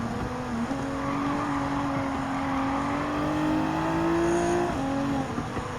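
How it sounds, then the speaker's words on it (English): A red Nissan R33 Skyline in Gran Turismo 7 holds a steady engine drone with a slowly rising pitch and a brief shift, loud and continuous throughout, with no talking. "there's the red R33 Skyline coming in to take the on-ramp"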